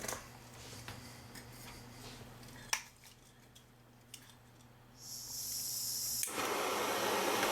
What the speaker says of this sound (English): light the blow lamp